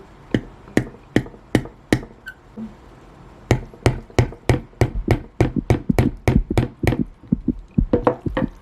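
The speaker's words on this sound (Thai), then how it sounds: "เดี๋ยวเราก็เอาค้อนนะคะ ทุบทุบทุบทุบลงไปนะคะ" Sharp hammer blows strike a plant pot to knock a hole in it, first spaced out, then in a rapid, steady series of close, ringing knocks.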